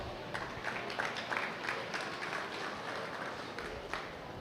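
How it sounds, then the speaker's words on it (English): Audience applause at a meat goat show for the heavyweight wether class, a steady moderate patter of clapping spread across a crowd, somewhat distant and even throughout. "give the exhibitors a round of applause"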